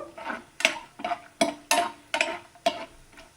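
Rava (semolina) for mango laddu fries in a pan while being stirred, producing a rhythmic series of about eight scraping, rattling strokes with a light sizzle beneath, close and with no talk.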